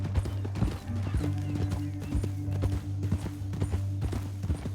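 Horse hooves clip-clop steadily at a walking pace in the Western video game Red Dead Redemption 2, loud and close, with low ambient game sound and no talk.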